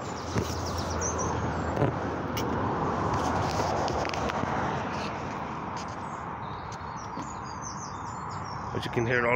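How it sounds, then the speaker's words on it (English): Birds chirp and tweet in scattered bursts across a steady outdoor wash of background noise, with traffic rumbling faintly in the distance. "you can hear them chirping."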